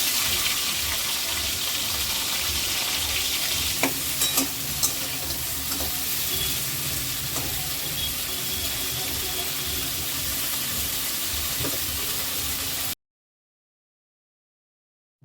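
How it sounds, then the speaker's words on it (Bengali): Crabs frying in hot mustard oil in a home kitchen give a loud, steady sizzle and crackle with a few sharp pops and stirring clinks, then the sound stops abruptly. "তো এখানে আমি কাঁকড়াগুলোকে প্রথমে ভালো করে আমি ভেজে নেব।"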